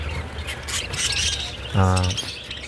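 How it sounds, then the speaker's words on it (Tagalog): Bright, busy bird chirps and squawks fill the clip, with a louder harmonic squawk near the end, close by over a steady background hum. "Ang mga huni nila ay nakakatanggal din stress."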